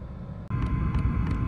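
A Chinese diesel air heater running at lower pump frequency gives a steady, close rush of blowing air with a low rumble, which thickens after a brief click about a third of the way in.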